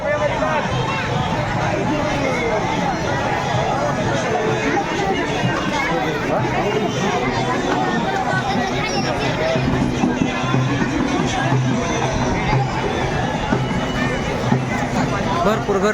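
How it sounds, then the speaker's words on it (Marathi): A large crowd chatters at a temple fair, a dense, loud and steady hubbub of overlapping voices with no break. "भरपूर गर्दी जत्रा भरल्यासारखी झाली दिसते भरपूरच गर्दी झाली"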